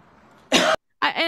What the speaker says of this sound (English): Slow deep breath and then cough.